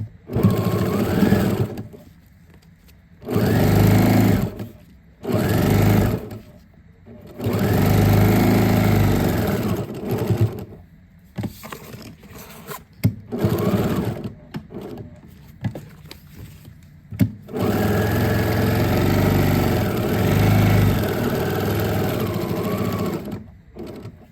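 A sewing machine stitches along the edge of an outdoor furniture cushion in repeated loud, close whirring bursts, starting and stopping in several runs with short pauses, the last run long and steady.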